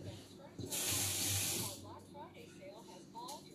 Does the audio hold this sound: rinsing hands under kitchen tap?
yes